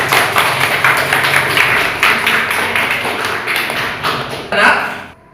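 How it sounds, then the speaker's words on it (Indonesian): Classroom applause from a group of students, a dense, continuous patter of hand claps running steadily for several seconds before tapering off at the end. "Tepuk tangan untuk kalian."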